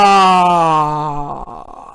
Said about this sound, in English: we yawn, we take in air with our mouth open, and then we exhale as if we're sighing